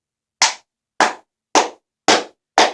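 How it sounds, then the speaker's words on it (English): One person claps hands five times at a slow, steady pace, each clap sharp, close and loud, with silence between them and no other sounds. "I'm going to give it a clap, folks, because it deserves it."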